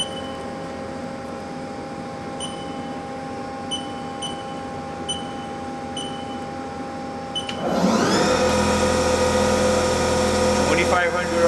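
HAAS SL-10 CNC turning center spindle spinning up to 2500 RPM: a steady machine hum under a high whine, then a sharp rise in loud broadband motor noise that holds to the end, with no talking.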